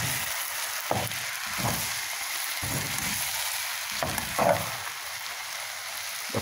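Pork sizzles in a hot pan while it is stirred, a constant frying hiss broken by several scraping, clattering strokes of a utensil against the pan.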